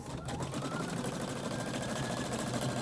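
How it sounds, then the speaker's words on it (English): An embroidery sewing machine runs fast and steady, a rapid rhythmic stitching chatter at moderate level with faint mechanical whir, automatically trimming thread as it works. "It sews extremely fast and cuts as it goes."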